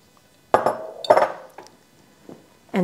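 A spoon clinks and scrapes against a pot as honey and ginger are stirred while heating, giving a few sharp metallic taps with quiet pauses between them.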